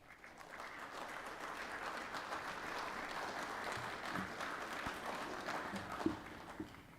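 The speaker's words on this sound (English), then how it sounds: "I'd like for you to show your appreciation for both your families and your teachers with a round of applause" An audience at a student of the year banquet gives a round of applause, moderately loud sustained clapping from a mid-sized crowd with a few sharper claps toward the end.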